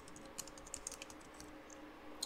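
Someone types an address on a computer keyboard, producing a quick, uneven patter of soft, fairly quiet key clicks against faint background hum.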